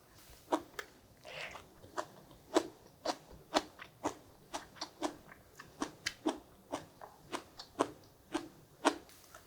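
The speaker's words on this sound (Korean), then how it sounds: "콩나물이 씹히는 소리가 아삭아삭 하잖아요" Crisp crunching bites of seasoned bean sprouts repeat in an uneven rhythm, each one sharp and close, with quiet pauses between the chews.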